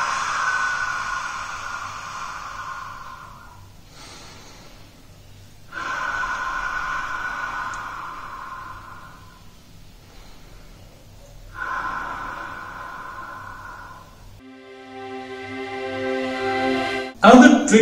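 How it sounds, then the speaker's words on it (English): Slow, deep exhalations through an open mouth, each a long airy breath followed by a pause, repeated several times close up. "you open your mouth wide and then you breathe out like you're yawning"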